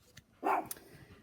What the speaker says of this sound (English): I have this dog that's probably 6 pounds, and he is barking at this cow that is way bigger than